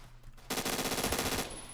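A rapid burst of MP5K submachine gun fire in a LEGO Call of Duty game, about a second of evenly spaced, fast shots after a brief quiet lead-in, loud and close.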